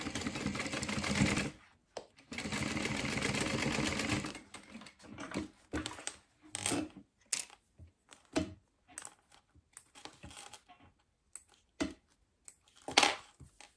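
A home sewing machine stitching a quarter-inch seam on fabric for a lunch box, with two sustained motor runs followed by many short stop-start bursts and clicks, close up and without talk.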